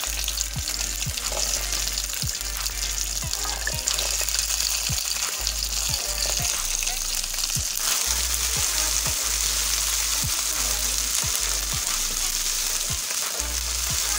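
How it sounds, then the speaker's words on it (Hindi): Boiled chickpeas and chopped garlic frying in oil, a constant close sizzle with a steady rhythm of spoon scrapes and taps against the pan while being stirred, no voices. "तो चनों को भी हम ऑयल में फ्राई करेंगे।"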